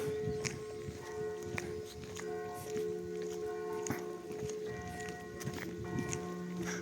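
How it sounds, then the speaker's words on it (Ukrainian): Church bells ring with sustained, overlapping tones at a moderate distance in central Truskavets, mixed with footsteps and faint outdoor bustle. "щоб ви мали можливість насолодитися дзвоном дзвонів"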